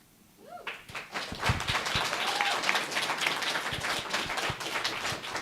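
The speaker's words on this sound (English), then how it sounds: "And if we could hold the applause during the forum, please." Audience applause at a county candidate forum for magistrate judge and sheriff, rising quickly from near silence into sustained, fairly loud clapping from a seated crowd indoors, holding steady to the end.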